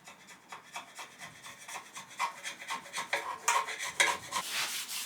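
Rhythmic back-and-forth rubbing strokes scrub black residue off a Triumph TR6 using thinners, each swipe a close, raspy swish that grows stronger and faster toward the end, with no speech.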